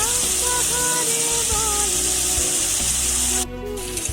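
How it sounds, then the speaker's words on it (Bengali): Potatoes and onions frying with salt in a pan make a loud, even sizzle that holds steady throughout, with faint tones in the background. "আলু পেঁয়াজ ভাজার মধ্যে নুনটা দিয়ে দিয়েছে, যাতে পেঁয়াজটা ভালো মতন গলে যায়।"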